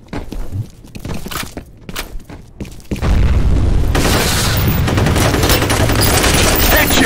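Assault rifle fire in the video game F.E.A.R. Combat: scattered shots and movement at first, then a dense, continuous burst of loud gunfire that holds to the end.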